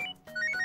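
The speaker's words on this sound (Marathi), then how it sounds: "ऑफिसच्या वेळात तुमचा सतत फोन वाजत राहतो." A mobile phone ringing in an office, a quick electronic ringtone melody of bright repeating notes, close and clear, with no talk over it.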